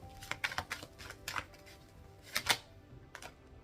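Tarot cards are shuffled by hand in quick, crisp bursts of riffling and slapping, irregular and close, with short pauses between.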